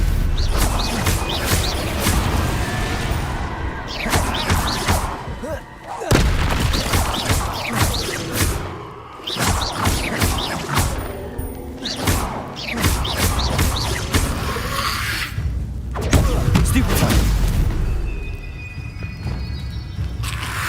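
Confringo fiery blast spells in the game Hogwarts Legacy, loud repeated booming explosions and crashes in quick bursts over a dense combat din, with brief gaps between volleys.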